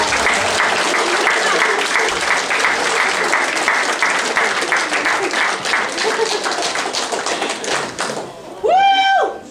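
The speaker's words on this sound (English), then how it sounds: "Please welcome to the stage with a warm round of applause, Keith, the professor." A large comedy-club audience claps and applauds steadily to welcome a comedian to the stage, a dense roar of hands lasting several seconds before fading, followed by a brief cheer or whoop near the end.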